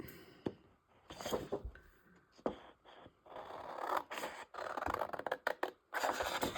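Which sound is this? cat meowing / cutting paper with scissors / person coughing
cutting paper with scissors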